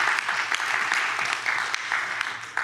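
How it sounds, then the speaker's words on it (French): An audience at a cult-film evening gives a short burst of steady, close applause, dense and even throughout. "On peut les applaudir."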